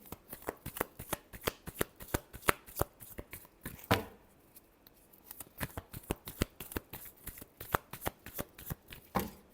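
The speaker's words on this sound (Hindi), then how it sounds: "Last shuffle." A deck of tarot cards is shuffled up close in quick riffling bursts of crisp flicks, with one brief pause near the middle before the rapid shuffling resumes.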